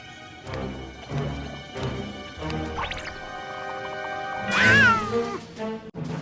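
A cat meows repeatedly and clearly, a series of close calls ending in one long, rising, drawn-out yowl, heard alone with no voices.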